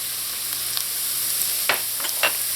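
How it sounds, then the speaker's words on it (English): Chopped garlic and pimento peppers sauté in a hot pan with bay leaf and curry leaves, a steady hiss of oil with a few soft utensil scrapes and clicks, no voices. "saute until the garlic is light brown"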